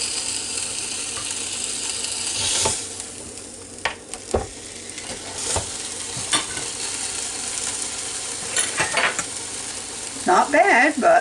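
Pork chops sizzling on a George Foreman grill, a steady crackling fry broken by a few sharp clicks and clunks near the kitchen counter, ending with a brief rattling scrape.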